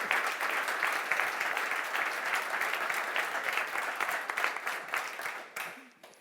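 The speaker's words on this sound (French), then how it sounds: "je vous propose de les applaudir chaleureusement" An audience at a corporate conclusion session applauds two participants warmly with sustained, even clapping that swells slightly, then thins and fades at the end.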